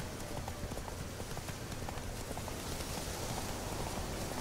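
Horse hooves clip-clopping steadily in The Witcher 3: Wild Hunt, a continuous run of dense, even hoof beats under a rain-like wash of noise, with no talk.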